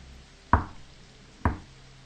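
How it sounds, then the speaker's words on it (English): Two sharp knocks on a door in a scary story, spaced about a second apart, each a hard thud with a quick decay over a quiet, faint rain-like background. "The knocking repeated, more insistent this time."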